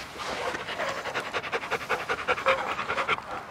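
A dog pants rapidly and steadily during a training session, with close, rhythmic breaths going on throughout, and no voices are heard over it.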